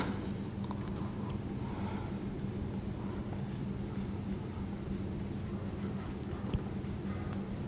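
A pen or pencil scratches steadily across paper while someone writes out an English grammar exercise by hand, a continuous soft scraping close to the mic over a low background hum.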